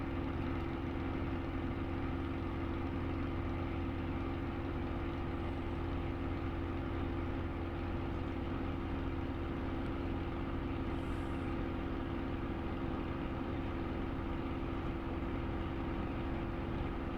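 Steady droning engine of a World War II Spitfire in flight simulation, a continuous loud propeller hum with stable tones throughout and no talk.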